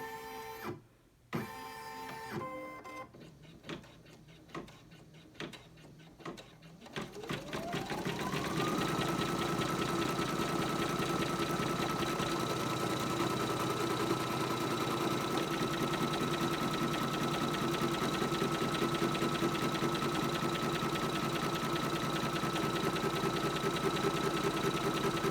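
An embroidery machine stitching a coaster in the hoop starts with a few separate clicks and short whirs, then spins up into a loud, steady, continuous mechanical drone with a rapid stitching rhythm that runs to the end.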